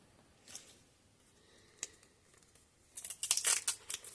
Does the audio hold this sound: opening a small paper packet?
yes